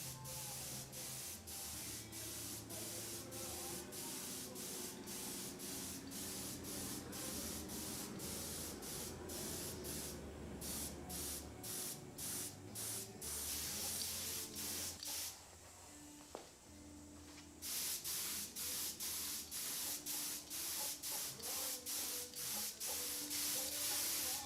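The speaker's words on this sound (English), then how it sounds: "I like to use my detail gun because it shoots a nice circle pattern." A detail spray gun lays finish onto an electric Telecaster Thinline guitar body, hissing close by in short bursts and longer passes separated by brief pauses.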